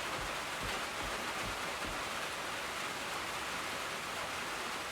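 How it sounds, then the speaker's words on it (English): Loud rain falling outside a workshop, a steady heavy hiss of drops on surfaces that fills the whole stretch without a break, with a few low thumps early on. "Sorry about the noise from the rain."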